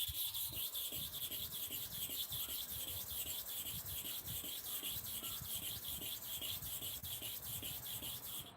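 A clipper blade scrapes back and forth across a sharpening stone in a steady, rapid rasping rhythm, close and continuous for several seconds without speech.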